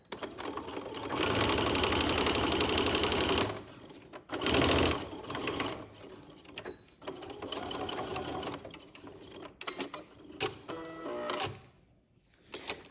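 A sewing machine stitches a garment side seam in steady, rapid mechanical bursts, stopping briefly and restarting several times, close and clear with no talking.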